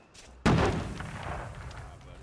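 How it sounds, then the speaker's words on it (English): Bombing and artillery explosions in the video game We Happy Few: one sudden loud boom followed by a long rumbling decay, with faint distant thuds after. "they're bombing us again!"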